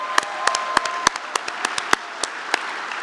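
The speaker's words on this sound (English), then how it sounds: "And let's give Amanda a round of applause for a great evening." An audience at an induction dinner and ceremony claps steadily for a speaker, a dense wash of applause with sharper individual claps popping out, no voices over it.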